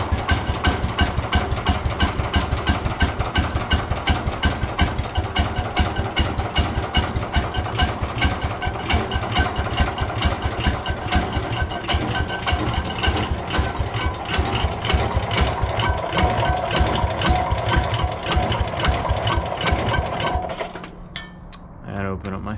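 An old 106 or 107 engine idles after a choked cold start, with a loud, close, rapid mechanical chugging and clatter that runs steadily before dropping off sharply near the end.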